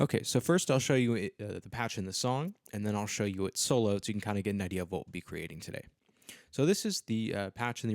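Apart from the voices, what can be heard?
No everyday noise stands out behind the speech.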